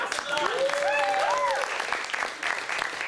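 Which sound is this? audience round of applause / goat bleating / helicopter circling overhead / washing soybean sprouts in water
audience round of applause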